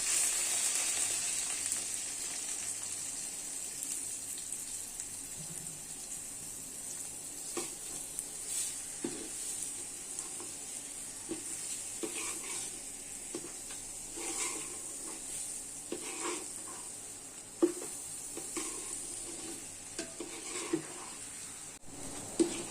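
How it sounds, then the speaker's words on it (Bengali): Rice for white pulao fries in a pot with a soft, steady hiss, marked by occasional scrapes and clinks of stirring, quiet and close throughout. "এখন আমি চালটা ছেড়ে দিব। চালটা আমি ভেজে নেব।"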